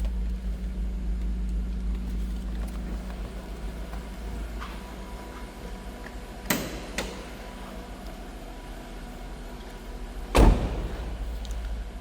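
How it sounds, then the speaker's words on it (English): The door of a 2002 Jaguar XK8 convertible shuts with two short thuds, a lighter one first and a firmer, solid one a few seconds later, over a low steady rumble. "Door closes nicely."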